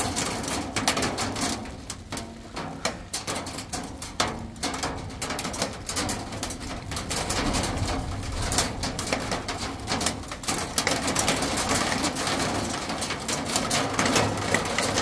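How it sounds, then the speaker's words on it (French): Hail hammers down hard during a strong thunderstorm near Grenoble in the Alps, a dense, steady rattle of rapid impacts that fills the whole stretch without let-up. "ça y est, grêle."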